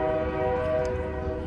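A train horn sounds steadily from a train passing close to the tracks, a sustained harmonic blare over a low rumbling rail roar, loud and continuous with no talk.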